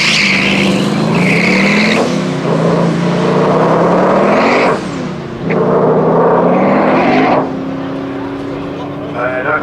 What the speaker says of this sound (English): V8 power and turbo and sound of it.